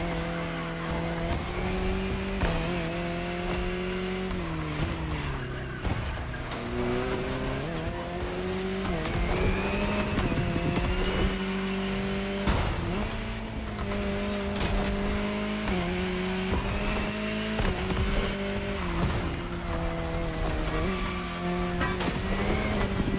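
Jaguar CX-75 concept car driving in The Crew Motorfest racing game, a continuous loud engine drone with gear-change pitch steps and occasional tire squeal throughout.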